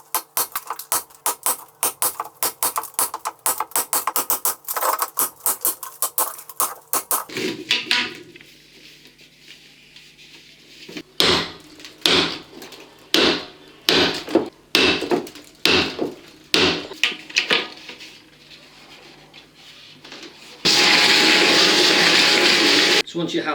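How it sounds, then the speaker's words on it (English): Hammer and chisel chasing a wall by hand to deepen a channel for a metal back box, with sharp repeated strikes in irregular bursts, near and loud, ending in a steady harsh burst of noise. "I just need to go back over that with a chisel and make sure I've got enough depth"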